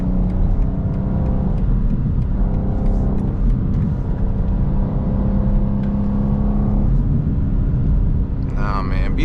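A BMW M2 engine drones loudly and steadily from inside the cabin on a night drive, with road rumble underneath and brief talk near the end.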